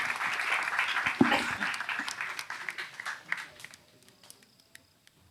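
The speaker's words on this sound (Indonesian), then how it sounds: "Oke, kita kasih aplaus nanti kita lanjutkan lagi." An audience applauding, a dense burst of clapping that is loud at first and then thins out and fades to scattered claps within about four seconds.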